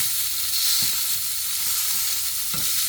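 Salmon fillets fry skin side down in a hot pan, a loud continuous sizzle and hiss with a couple of soft clicks from the pan.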